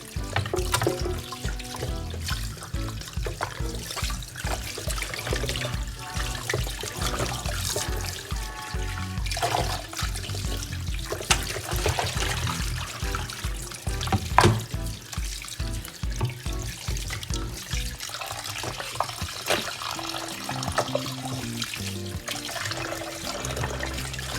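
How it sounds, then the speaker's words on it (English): Tap water runs steadily into a sink while a raw whole chicken is rinsed and cleaned by hand for a Jamaican-style roast, the continuous splashing broken by small knocks and shifts as the bird is handled. "it's time for we to turn on our water on it, and we're going to put our hand inside of it and clean it out"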